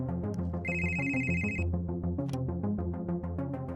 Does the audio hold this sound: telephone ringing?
yes